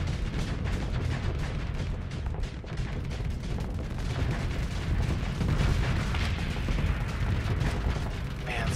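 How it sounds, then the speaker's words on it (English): Machine guns on an enemy ship in Starsector rattle in dense, continuous volleys over a booming combat din, sustained and loud throughout. "this guy has so many machine guns"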